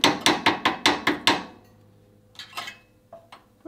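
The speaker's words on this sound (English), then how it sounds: "tap, tap, and then over on this side, tap, tap" A tool taps rapidly on the auger of an Englander pellet stove during cleaning: seven sharp metallic knocks in a quick even run, then a pause and a few scattered lighter clinks, close and clear with no voices.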